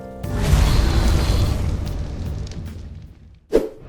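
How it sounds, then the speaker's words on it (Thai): A Jurassic Park mod dinosaur in ARK Survival Evolved spits bombs that explode in a loud, rumbling boom. It fades over a few seconds, then a second sharp blast hits near the end, with no talking. "พ่นลูกระเบิด"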